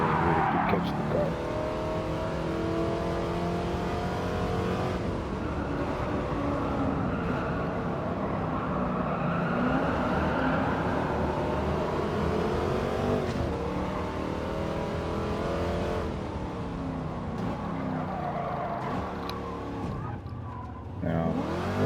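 A De Tomaso Mangusta's engine in Gran Turismo 7 revs and pulls through repeated gear changes, rising and falling pitch sweeps with occasional tire squeal, continuous and prominent with someone talking over it.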